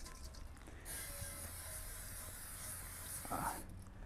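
A steady hissing spray of olive cooking oil runs for about three seconds, with a brief clink and rustle near the end, close up in a quiet room.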